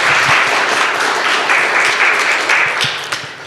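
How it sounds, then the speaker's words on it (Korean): Steady, dense applause from a church congregation fills the room, loud and continuous before tapering slightly at the end. "박수 한번 다시 할까요?"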